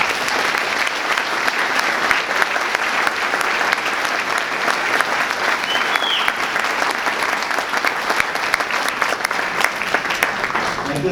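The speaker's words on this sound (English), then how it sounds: "One more applause for her, please." Sustained audience applause for a judge at an annual Judge of the Year award ceremony, a dense, steady wash of many hands clapping at even loudness throughout, with no pauses.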